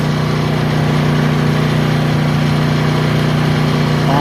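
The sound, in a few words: Honda EU2000 generator running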